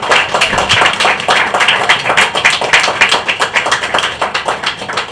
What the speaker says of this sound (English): But a big round of applause for this four.